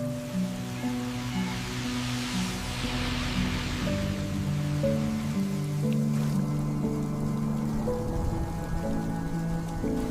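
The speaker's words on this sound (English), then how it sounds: "The rain grew heavier. Water soaked the cardboard." Heavy rain pours steadily onto a soaked cardboard box, a dense continuous patter with a faint low tone in the background.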